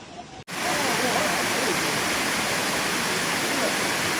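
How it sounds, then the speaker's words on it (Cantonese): A large waterfall on a rocky Hong Kong hillside stream roars as a dense, steady rush of falling water, loud and continuous after a brief quiet start, with no talk. "呢個好靚嘅大瀑布啊！"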